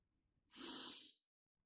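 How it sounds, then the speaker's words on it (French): One long, deep inhalation during a sophrology relaxation session, a soft airy breath lasting under a second, close and alone against near silence. "Prends plein d'air dans ton ventre."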